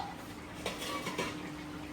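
A cooking pot of papaya curry with fish is handled as it comes off the heat, giving a few soft metallic clinks and scrapes of pot and utensils, quiet and close, with no talking.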